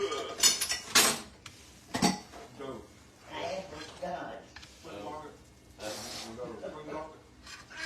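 A metal spatula scrapes and clinks against a pan as homemade pancakes are flipped, giving irregular close clatters and taps spread through the clip, with people talking in the kitchen.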